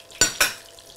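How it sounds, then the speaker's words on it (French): Accras fritters dropping into hot frying oil give two quick, close sizzling bursts, one right after the other, then fade to a faint low background hiss. "Ça se passe dans la friture."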